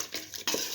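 A spoon mixes a lentil stew seasoned with turmeric and vegetable spices in a pot, producing brief soft scraping and stirring strokes, close and fairly quiet.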